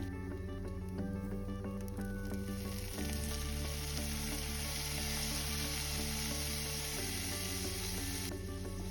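Shrimp and garlic fry in butter in a pan, a dense, steady sizzle running throughout at close range, with a low tonal hum underneath and no talking.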